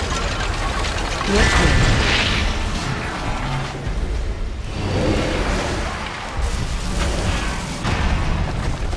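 A boss in the World of Warcraft dungeon Stonevault throws fire all around, heard as a continuous roaring, crackling blaze with swelling bursts and rumbling booms layered over steady game ambience.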